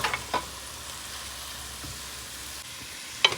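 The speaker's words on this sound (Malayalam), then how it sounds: "സവോള ഒന്ന് നന്നായിട്ട് വഴറ്റിയെടുക്കണം" Onions sautéing in a pan for prawn biryani, a steady low sizzle broken by a few sharp scrapes of stirring near the start and end, with no talking.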